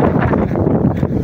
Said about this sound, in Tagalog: Papansin nyo ang lakas ng hangin, no?